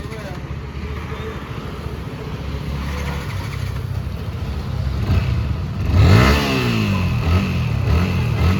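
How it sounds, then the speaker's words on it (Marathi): A motorcycle engine hums steadily, then revs up loudly as it accelerates, with a rushing ride noise throughout. "हे चालले राईडला आणि अर्जुन चालवतोय बाईक"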